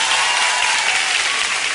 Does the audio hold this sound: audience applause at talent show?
yes